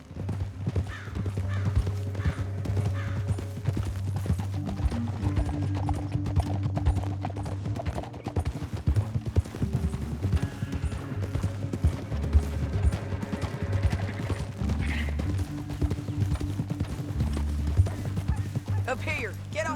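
Horse hooves gallop at a steady clip-clop in Red Dead Redemption 2, running under continuous game music and voices.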